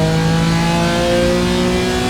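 A BMW M4 engine in a racing simulator at the Nürburgring accelerates out of a corner, a loud, steady mid-pitched drone with rising harmonic tones and no voices over it.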